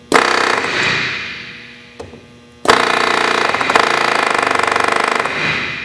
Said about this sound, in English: we're going to verify the proper action of our rivet gun